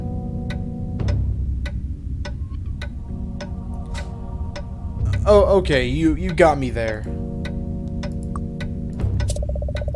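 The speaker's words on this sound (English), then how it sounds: "You've heard of grandfather's clocks, but this must be a great-grandfather clock." An old great-grandfather clock in Goosebumps: The Game ticks steadily and evenly with a low hum beneath it, while a voice talks briefly over the middle of the ticking.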